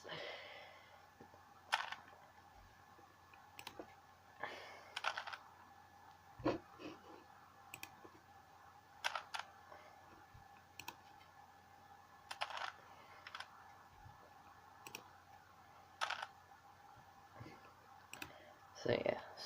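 A Rubik's cube being turned gives bursts of sharp plastic clicks, grouped in short runs with pauses between them, close and fairly quiet, with a voice at times.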